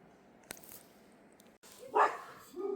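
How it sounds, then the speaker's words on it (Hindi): A dog barks at night at a forest homestay near Jim Corbett, heard as one loud, fairly close bark after faint rustles and a click, with a further quieter sound trailing after it. "एक कुत्ता अंदर से भौंक रहा है।"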